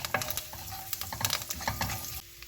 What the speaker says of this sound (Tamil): நாங்கள் ரெடி பண்ணி வச்ச கருவேப்பிலையை சேர்த்து வதக்கி கொள்வோம்